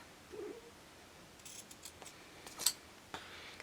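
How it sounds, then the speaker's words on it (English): Scissors snip through a stitched, overlocked seam on cotton T-shirt fabric: a few quiet, close cuts and rustles, with one sharper snip standing out, no talking. "so I'm just going to cut that off."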